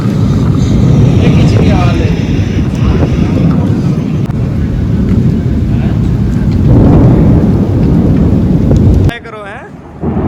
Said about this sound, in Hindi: कैसे गरज चमक के साथ बारिश हो रही है